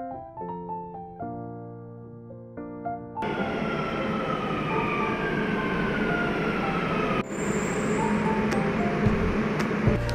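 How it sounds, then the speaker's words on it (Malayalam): A Dubai Metro train arriving at the opposite platform, preceded by a tonal chime sequence, then a loud sustained rumbling roar with high whining tones as it pulls in, close and continuous. "ഇപ്പോൾ കണ്ടത് ഓപ്പോസിറ്റ് സൈഡിലെ ട്രെയിൻ വന്നതാണ്."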